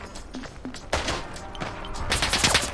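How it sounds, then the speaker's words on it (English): Enemy machine gun fire in a slower-paced shooter video game, scattered shots building to dense bursts of loud cracking gunfire toward the end. "They got like a machine gun or something."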